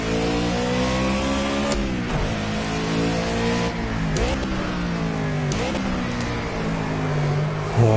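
A race car engine in the Project CARS racing game revs hard and holds high, climbing through gears with brief dips at each shift, loud and continuous throughout.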